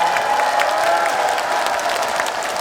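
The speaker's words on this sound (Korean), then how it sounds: "박수 서로에게 다시 한번 박수 보내주세요" A crowd at a county-day celebration concert in Okcheon applauds one another, a continuous wash of clapping with faint cheering that holds evenly and eases slightly toward the end.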